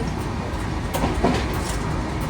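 A train rumbling along, a steady loud roar with faint rattling, heard from on board, no clear talking.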